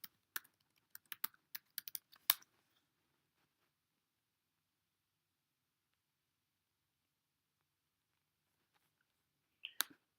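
Quick bursts of typing on a computer keyboard while writing in Microsoft Word, crisp close key clicks in a short flurry, then a long silence before a few more taps.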